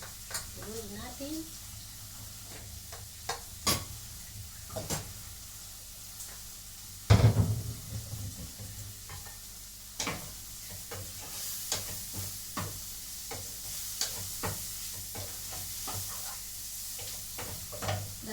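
A sizzling dish stirred in a pan, the spoon scraping and clattering in irregular knocks over a continuous fry hiss, with one heavy clunk midway and a voice speaking briefly.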